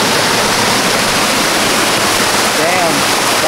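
Saob Waterfall rushes loudly and steadily, a dense continuous roar of falling water that fills the whole scene without a break.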